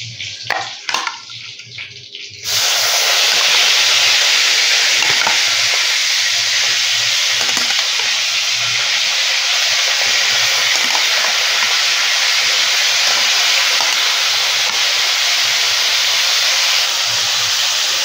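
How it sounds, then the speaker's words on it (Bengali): Chicken pieces deep-frying for chicken maharani spatter in a pan of hot oil, giving a loud, steady, continuous hiss and sizzle that lasts for the whole stretch after a short quieter start. "এই চিকেনগুলো প্রায় ভাজা হয়ে গেছে, বড্ড ছিটছে"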